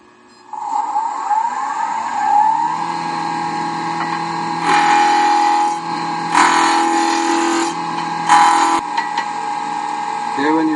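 A wood lathe spins a square spindle blank of about 2 3/16 by 12 inches as a roughing gouge cuts it toward a cylinder, a steady motor whine broken by several bursts of loud gritty cutting.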